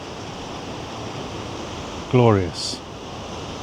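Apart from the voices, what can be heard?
Atlantic Ocean waves on the Celtic Sea coast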